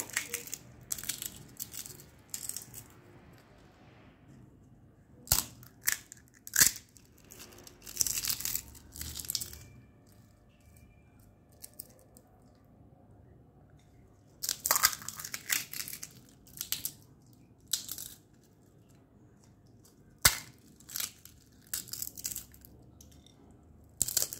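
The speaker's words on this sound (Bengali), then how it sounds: "ফুচকা, ভেজে রাখা ফুচকা গুঁড়া করে দেব।" Fried fuchka puris are crushed by hand into small crispy pieces for a chotpoti topping, giving bursts of sharp crackling and crunching between quiet pauses, close and fairly faint.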